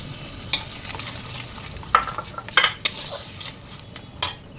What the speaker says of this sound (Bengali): হলুদ, স্বাদ মতো লবণ দিয়ে এবার সরষা পোস্ত বাটাটা দিয়ে দেবো।